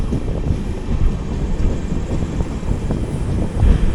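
A Karjat local train runs alongside a moving long-distance superfast express near Mumbai, its steady low rumble and rattle mixed with wind buffeting, continuous and fairly loud.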